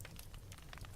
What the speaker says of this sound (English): The fire continues its quiet rhythm, a soft crackle, a gentle fade back into stillness.